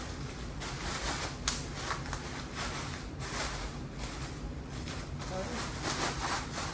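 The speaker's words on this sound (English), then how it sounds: "So, unwrap this." Unwrapping a 1999 Harley Davidson sissy bar from its packaging: steady, close crinkly rustling and scraping of wrap material, continuing throughout with small bursts.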